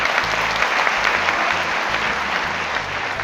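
Steady applause from an audience seated at a company gathering, dense and sustained throughout with a low steady hum beneath it.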